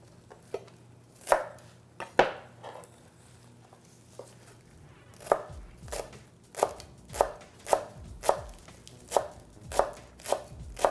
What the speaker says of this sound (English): And we need to chop some fresh parsley.